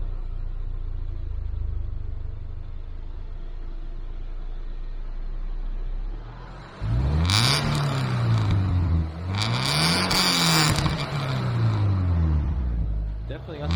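A 2009 Subaru Impreza 2.5i with an SPT catback exhaust idles low and steady, then revs hard twice in quick succession, each rise and fall loud and close, settling back toward idle at the end.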